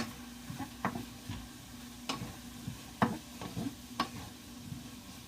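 Cauliflower rice frying in a pan and being stirred, with soft sizzling under a few sharp scrapes and clicks of a utensil against the pan at irregular intervals, close and fairly quiet.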